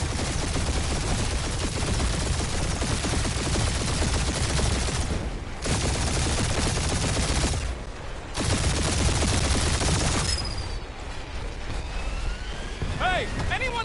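Rapid gunfire rattles through a spaceship dogfight in the Guardians of the Galaxy video game, dense, continuous bursts with brief gaps, mixed with engine whooshes and swooping sci-fi effects.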